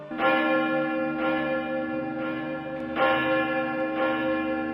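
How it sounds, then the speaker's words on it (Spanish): Recorded church bell tolls played through a loudspeaker at a Mexican temple, ringing out loud and clear as slow, evenly spaced strokes, each long ring overlapping the next, with no voices. "cuenta con una bocina que reproduce tañidos grabados que simulan las campanadas"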